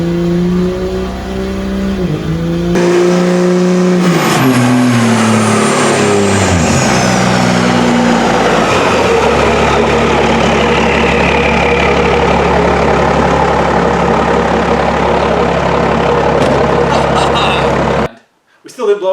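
A pickup truck running stock valve springs roars through a burnout, the engine revving hard and sustained with rising and falling pitch, loud and close, before cutting off abruptly near the end.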